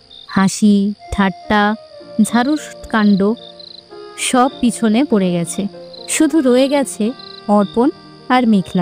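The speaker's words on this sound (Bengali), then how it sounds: "ঝিঝি পোকার ডাক।" Crickets chirping in an open field at night as a story sound effect, a steady high-pitched trill running underneath a narrator's continuous speech, faint behind the voice.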